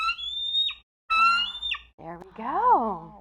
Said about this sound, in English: This is a bald eagle.